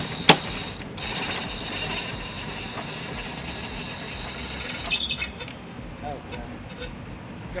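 A ratcheting jack lowers the spare tire under a 2018 Hyundai Santa Fe Sport, giving faint mechanical clicks and a sharp metallic snap over a steady background hum.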